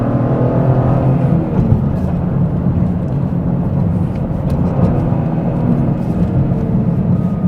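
A Toyota GR Corolla's engine drones loudly and steadily from inside the car, with rising revs as the automatic rev-matching blips the throttle on downshifts under continuous road and engine noise.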